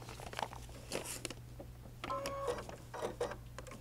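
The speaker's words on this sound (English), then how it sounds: "And now I'm going to stitch on that line right there." A sewing machine stitching fabric along a pinned line while paper piecing, with short bursts of mechanical whirring and clicking over a steady low hum, close by and alone.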